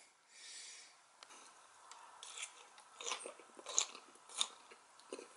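Crunchy cooked asparagus being chewed close to the microphone, soft irregular bites and crisp crunches with a few sharper snaps, quiet and without talk.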